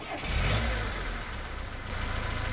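A forestry vehicle's engine in Farming Simulator 19 turns over and settles into a steady mid-pitched idle with a slight knock, loud and close, with no voices.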